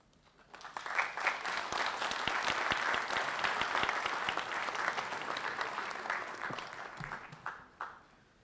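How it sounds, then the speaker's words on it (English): Audience applauding at the close of a memorial lecture, a dense wash of claps that swells within the first second, holds steady and fairly distant for several seconds, then thins into scattered claps near the end. "Thank you for your applause."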